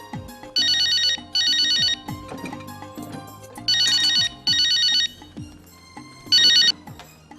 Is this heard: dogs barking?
no